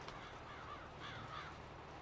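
Crows caw in the Farming Simulator 22 game world: a few short calls at a moderate distance, repeated at intervals over a steady low background hum.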